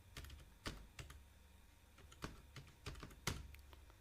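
Keys tapped on a computer keyboard while entering an Aadhaar number, a quiet, irregular run of about a dozen sharp clicks with brief pauses, close by and with no talking.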